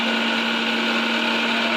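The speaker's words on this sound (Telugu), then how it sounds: "ఇది ఉన్నోళ్ళ మిక్సీ అనమాట" A costly household electric mixer grinder runs steadily and loudly at high speed, a continuous motor whine with a strong steady hum, with no talk over it.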